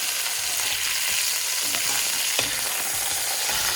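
Chicken pieces frying in a pan for mulligatawny soup, giving a steady soft sizzle with occasional crackles and the scrape of turning food, close and unaccompanied by talk.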